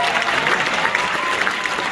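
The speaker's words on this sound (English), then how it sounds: "One more round of applause for the Jet Fry, please." An audience at a live cooking event in the Coachella Valley applauding, dense continuous clapping from a crowd lasting the whole stretch.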